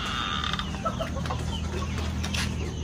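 Black Australorp chickens in farm pens give faint, scattered clucks and a creaky call over a steady low hum, with no talking.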